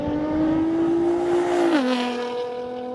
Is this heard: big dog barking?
no